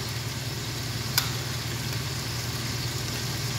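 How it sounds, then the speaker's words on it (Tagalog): About two tablespoons of pasta sauce sizzle in a pan, a steady soft hiss with a low background hum and one brief click, with no one talking. "So maglagay tayo ng mga 2 tablespoon lang guys na ganito. Pasta sauce."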